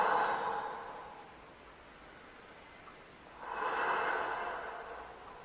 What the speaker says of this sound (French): Trois grandes respirations.